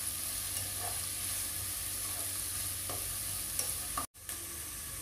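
Curry leaves fry in a pan of broccoli as it is stirred, a soft steady sizzle with occasional spatula scrapes and a brief cut near the end, fairly quiet and without speech.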